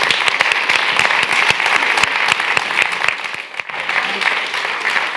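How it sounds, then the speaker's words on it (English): A summit audience on smart sustainable plastic packaging in 2023 breaks into sustained applause, dense overlapping claps filling the room at steady loudness for several seconds with a brief dip near the end. "Join me in giving a round of applause to these projects."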